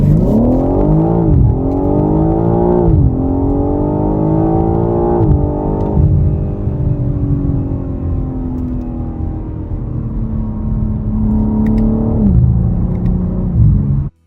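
BMW M3 Competition Touring estate accelerating hard, its engine note climbing steadily through several gear changes with a loud, continuous roar and no voices over it.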